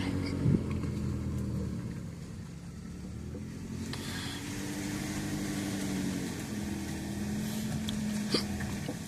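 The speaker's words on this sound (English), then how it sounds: "Oh, sorry, I got the hiccups." A person hiccups twice outdoors near a burned house at a fire scene in McKeesport, Pennsylvania: one short hiccup near the start and another near the end, both over a steady low rumble of passing car traffic.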